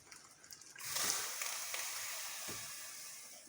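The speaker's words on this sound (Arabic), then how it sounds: "نرق على روحي بالماء سخون، ما نصبوش على الدجاج، ديما نصبو بعيد" Hot water is poured into a cooking pot beside chicken for a chicken and potato stew, a sudden steady splashing rush that starts after a short quiet moment and keeps running fairly softly to the end.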